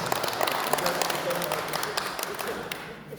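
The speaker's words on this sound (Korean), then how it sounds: "큰 박수 부탁드립니다" Members at a committee meeting applaud together, a continuous patter of many hands clapping at a moderate level that holds steady and then softens slightly as it tapers off, with some voices beneath.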